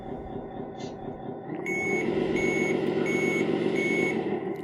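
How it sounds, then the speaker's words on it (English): Reversing beeps from a 1/14-scale RC CAT 740 articulated dump truck model, a steady on-off tone repeating about four times, starting partway in over the continuous whir of its running engine sound. "the reverse lights will come on and the reverse beep will start"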